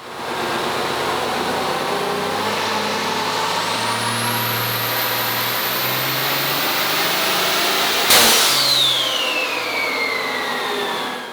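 A modified 6.7L diesel truck engine with a 700hp-class build runs hard on a dyno power pull, a loud, steady roar with a rising turbo whistle, then a sudden sharp bang as an intercooler boot blows off.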